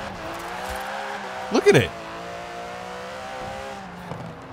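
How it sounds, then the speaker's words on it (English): Rear-wheel-drive Aston Martin in Forza Horizon 4 spinning its wheels, a steady engine drone with a brief loud squealing burst of wheelspin midway, with talking over it. "This engine is super torquey. It just spins its wheels in every gear."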